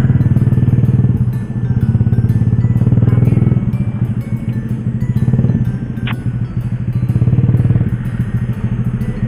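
Motorcycles crawling through a jammed road on a dusty, sandy dirt route, steady close engine rumble and revving with clatter throughout, swelling louder at times.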